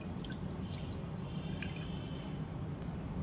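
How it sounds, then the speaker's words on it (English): Lemon juice being poured into a pan for an eggless lemon curd makes a quiet, steady liquid hiss with a few faint drips, with no talking. "Let's start by adding the lemon juice"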